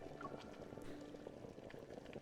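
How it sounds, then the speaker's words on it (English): A pot of water boils steadily in a video game, a soft continuous bubbling and simmer held at low level throughout with no voices over it. "The pot is boiling."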